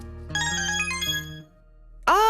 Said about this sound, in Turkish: Anne telefonun çalıyor.